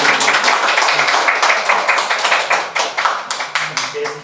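Clapping from an audience after an academic talk on performative writing, a fairly close, moderately sized round of distinct claps that gradually loosens and fades toward the end.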